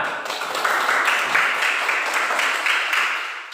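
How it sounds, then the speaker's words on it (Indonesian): A classroom of students claps together in a short, dense burst of applause that holds steady for a few seconds before easing off. "Bagus, tepuk tangan."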